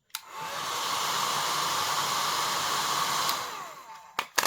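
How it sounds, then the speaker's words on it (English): Hair dryer plugged into a Loskii LK-PS10 portable power station, running with a steady whooshing blower roar for several seconds before clicking off, followed by a couple of handling knocks. "plug in that hair dryer"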